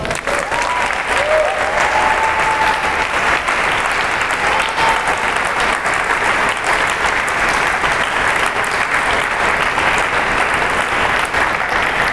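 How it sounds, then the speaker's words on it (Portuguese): Church congregation applauding during a sermon, a sustained wash of many hands clapping together, loud and even throughout, with faint vocal tones rising briefly over the start. "Aplauda Jesus."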